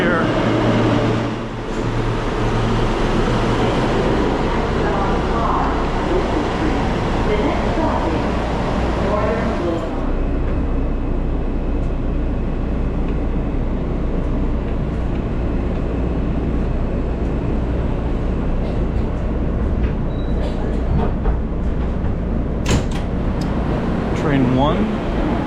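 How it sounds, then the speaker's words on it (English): Inside a New York City subway R train car, a loud continuous roar of wheels and rails fills the space, steady throughout with some squeals and rattles, under talk. "It's the R train"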